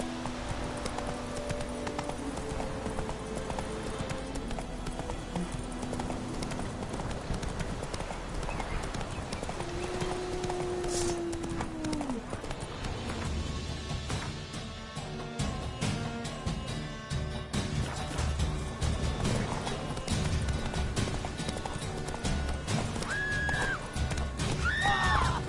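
Roach, a horse in The Witcher video game, gallops with steady, driving hoofbeats throughout, plus a couple of whinnies partway through, all over a busy game soundtrack.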